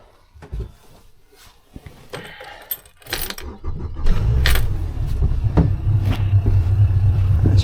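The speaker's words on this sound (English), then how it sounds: "before I start taking the lines off the mooring ball, I will start the engine" Keys jangle and click before the engine of a Merry Fisher 695 motorboat on a mooring buoy turns over, then settles into a steady, close, low idling rumble.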